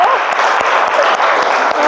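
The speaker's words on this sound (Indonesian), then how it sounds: "kasih tepuk tangan dulu ya" Classroom applause from a group of eleventh-grade students, steady dense clapping heard close for a short burst.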